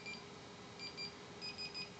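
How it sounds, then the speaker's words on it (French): Anti-escape dog fence collar giving short, high, faint warning beeps in small groups of two or three, over a steady background hum. "dans un premier temps, il va biper seulement, il ne va pas envoyer de décharge"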